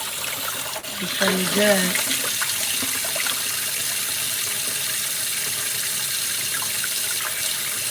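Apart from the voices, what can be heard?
rinsing black-eyed peas under running tap water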